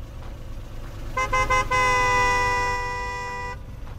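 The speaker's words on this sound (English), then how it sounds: "Why are you beeping, you fucking asshole?" A car horn in a horror video game gives a few short toots, then one long, loud, steady blast held for about two seconds before it cuts off, over a low ambient rumble.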